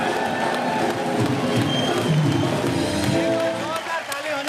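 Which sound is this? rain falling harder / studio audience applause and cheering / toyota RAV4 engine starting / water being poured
studio audience applause and cheering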